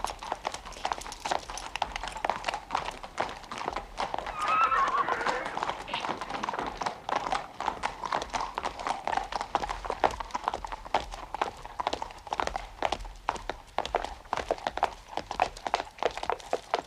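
Horse hooves clip-clop along at a steady running pace, fairly close, with a man and horse turning on a rural path, under ongoing speech.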